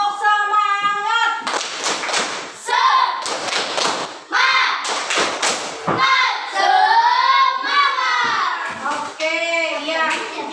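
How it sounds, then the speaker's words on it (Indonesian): Schoolchildren in a classroom perform a rhythmic clapping routine, bursts of claps and thumps alternating with chanted and sung children's voices, loud and close. "ayo silakan tepuk semangat"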